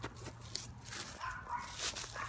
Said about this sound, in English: You think the dog's barking at the deer?